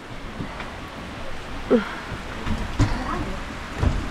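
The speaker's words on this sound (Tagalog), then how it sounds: "dahil sa walang tigil yung ulan dito sa amin" Steady, continuous heavy rain falling nonstop on a Philippine village, a dense even hiss throughout with a few faint knocks and thuds rising above it.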